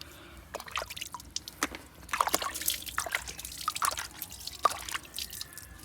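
Liquid poured into the tank of a car washing machine drips and trickles unevenly for several seconds, with small splashes and sloshing close by and no talking.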